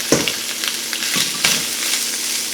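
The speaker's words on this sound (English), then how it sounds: "I always find that browning my meat adds another layer of flavor" Andouille sausage browns in a Dutch oven with a steady, fairly loud sizzle and fry, broken by a few sharp scrapes and knocks as the pieces are stirred and turned.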